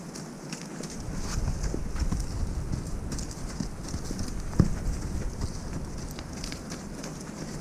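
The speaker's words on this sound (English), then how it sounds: "None of the horses like that deep sand." Horses shuffle and plod through deep, loose sand in a steady, muffled stream of soft hoof thuds, with one sharper knock partway through and a constant low rumble of ambient noise beneath.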